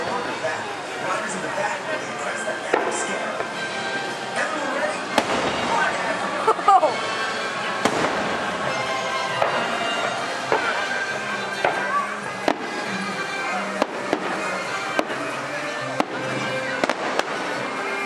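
Fireworks at Disney's Mickey's Very Merry Christmas Party bursting in a long run of distant booms and crackles, with people chatting in the crowd throughout.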